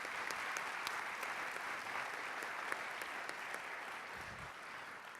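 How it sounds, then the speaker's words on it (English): Audience applause for the crew and volunteers at a Nutcracker ballet performance, a steady broad wash of many hands clapping from a sizable crowd, fairly far off and even in level throughout. "I can indulge you a round of applause for all of our crew and our volunteers"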